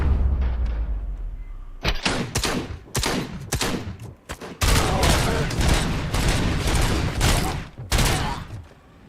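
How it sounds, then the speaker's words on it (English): Combat shotgun in the RoboCop Rogue City video game fires in rapid, loud, booming blasts, one after another, with echoing tails between shots and no talking. "see what the combat shotgun's like"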